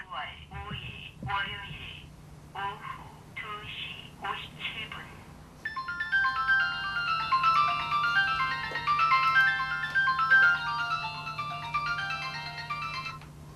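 A mobile phone alarm rings with a bright, steady electronic melody that repeats and grows fuller, following a few short bursts of speech-like sounds at the start.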